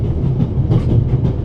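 A steady low rumble fills a moving train's interior in The Raven: Legacy of a Master Thief, travelling near Zurich, loud and continuous with faint rhythmic rattling and no voices.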